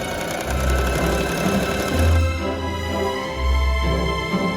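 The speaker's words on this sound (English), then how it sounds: "I'm gonna machine sew it because I don't have time for that" A sewing machine stitches a dress hem, its motor running in steady bursts with short pauses between runs, a close, even mechanical whir with no talk.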